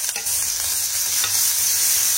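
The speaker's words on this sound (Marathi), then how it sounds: "सर्व व्यवस्थित असं परतून घ्यायचे" Tomato and coriander stirred with turmeric and a pinch of asafoetida in a hot pan, a continuous close sizzle with scraping stirring strokes, no voices.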